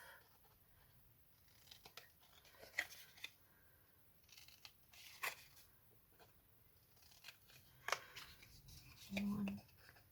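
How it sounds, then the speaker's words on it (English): Scissors snip the corners off layered fabric, making a few quiet, close cuts spaced several seconds apart, with a voice talking softly in between. "I'm just going to snip my corners off, just trim them off"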